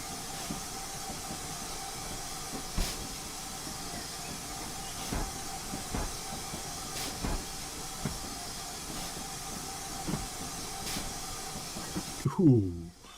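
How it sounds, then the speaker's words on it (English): A short locomotive shunting a long coach through tight corners into a head shunt at Malmsbury in Train Simulator, a steady low rumble with regular clicking wheel beats and a brief rising squeal at the end. "this little short locomotive does not like being on the end of this long coach in tight corners."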